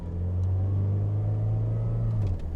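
A 1998 Mercedes SLK230 Kompressor's supercharged four-cylinder M111 engine idles smoothly with a steady low rumble, close and continuous, with a few faint clicks near the end.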